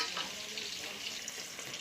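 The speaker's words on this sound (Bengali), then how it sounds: "এখানে মাছটা ভাজা হচ্ছে, হয়ে গেছে।" Fish frying in hot oil in a home kitchen, a soft, steady crackling sizzle heard close up and quiet, with no voices.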